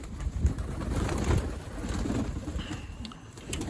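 Pigeons coo softly and repeatedly nearby, their low burbling calls overlapping against a steady background hum.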